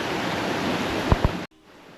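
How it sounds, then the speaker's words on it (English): Steady broadband rush of river water flowing close by, continuous for about a second and a half with two brief low thumps near the end before it cuts off abruptly to near quiet. "as I sit here by the river"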